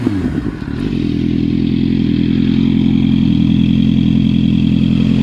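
A Honda CBR650R motorcycle fitted with a JP Racing exhaust and a remapped ECU runs nearby. A brief clattering start gives way to a steady, loud, throbbing engine drone that holds evenly throughout.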